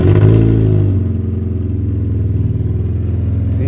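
An Alfa Romeo 156 car engine starts with a brief loud crank and catch, then settles into a steady, close idle with a low throbbing rumble.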